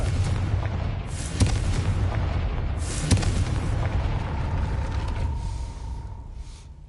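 A Confringo spell explosion in the Hogwarts Legacy video game, loud booming blasts with sharp cracks over a dense rumbling roar that slowly fades.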